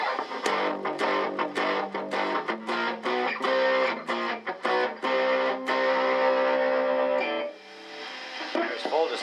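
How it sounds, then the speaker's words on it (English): An electric guitar plays through a Boss SD-1 Super OverDrive pedal set to full distortion, with crunchy, sustained chords and choppy strummed bursts, then a pause before a voice speaks near the end. "There's full distortion."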